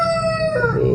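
A rooster crows once, a loud drawn-out call close by, ending in a rough trailing note, in the early morning.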